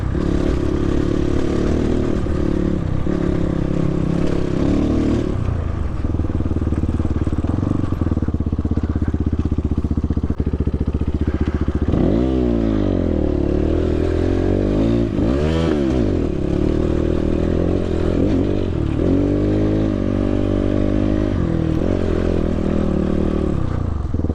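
A GPX FSE 300r motorcycle ridden off-road through Coyote Canyon in Death Valley, its engine droning steadily close by, with revs rising and falling in sweeps and loose clattering over rough ground.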